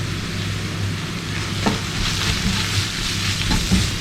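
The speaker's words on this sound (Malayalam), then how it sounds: "പൊടികളുടെ മണം മാറുന്ന വരെ ഒന്ന് വഴറ്റി കൊടുക്കാം" Turmeric, chili and coriander powders sautéing in a pan for kadai chicken give a continuous close sizzle, with occasional soft clinks and scrapes from stirring.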